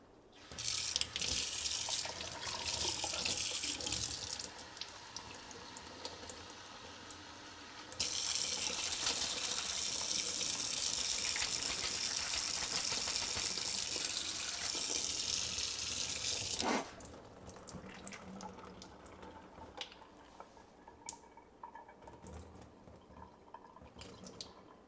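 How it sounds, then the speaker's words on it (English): Water pours from a tap and rinses through LECA clay pebbles in an anthurium's plant pot, a steady rushing stream for several seconds, then drips and trickles as it drains, close and without talk. "I'm going to rinse through a little bit and you'll just see how the water drains out"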